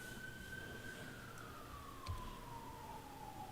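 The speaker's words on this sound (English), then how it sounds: "I hear cop sirens." A police car siren wails in the distance, one long tone slowly sliding downward, faint over a low background rumble with a brief thump.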